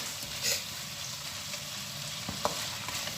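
Bitter gourd (ampalaya) frying over high heat in a pan, a steady broad sizzle throughout with a couple of brief clinks or stirring touches, close and moderately loud.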